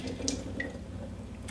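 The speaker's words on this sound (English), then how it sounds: "Give your cauliflower a rinse." Tap water runs in a steady stream over cauliflower being rinsed at a sink, with small splashes and drips.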